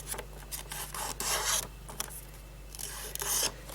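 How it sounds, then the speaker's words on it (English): Fingernail rubbing along the crease of a folded origami paper boomerang, a series of close, dry scraping swipes of varying length with short pauses between them. "Maybe run your fingernail over it."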